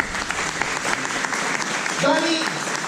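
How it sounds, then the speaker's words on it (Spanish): Steady crowd applause at a church Bible study, close and fairly loud, with a brief voice rising through it near the end. "Vamos a darle un aplauso a Dani."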